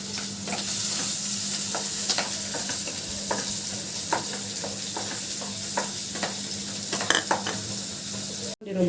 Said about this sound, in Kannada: ಇದು ಆಲ್ಮೋಸ್ಟ್ ಫ್ರೈ ಆಗಿದೆ ಆನಿಯನ್ನು.